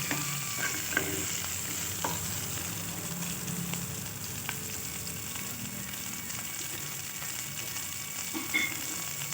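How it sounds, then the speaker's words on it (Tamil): Onions frying in a pan for chutney, stirred until golden brown; a steady, close sizzle carries on throughout with occasional scrapes and light taps from the spoon. "அந்த அளவுக்கு நம்ம கிளறி கொடுத்துக்கலாம்."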